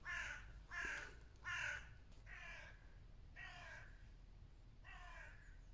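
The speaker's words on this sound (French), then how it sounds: "Je vous jure, les corbeaux ils me rendent fou." Crows cawing repeatedly, six harsh calls in a loose rhythm, the first three louder and nearer, the later ones slightly softer, over quiet low background hum.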